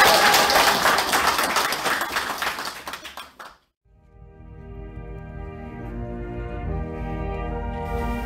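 Audience applause at a party rally in Incheon, a dense burst of clapping from a crowd that stops abruptly, followed by music and a tone playing alone.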